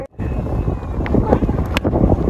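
Strong wind sweeps across an outdoor cricket ground during a tournament match, buffeting the microphone with a loud, rough, continuous rumble that rises and falls after a sudden start.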